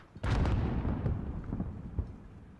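Mortar fire in Call of Duty Modern Warfare: a heavy booming blast with a rumbling tail, followed by fainter thuds and pops, fairly distant and alone without talk.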